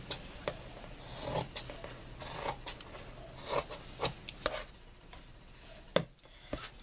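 Scissors cut through fabric for a sewing project, making soft, close snips and rasping slices in an irregular rhythm with quiet pauses between cuts.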